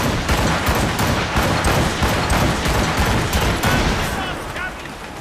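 Ship cannons fire in a naval battle in the Assassin's Creed Rogue video game, a loud, sustained barrage of rapid booms that fades slightly toward the end, with voices under the blasts.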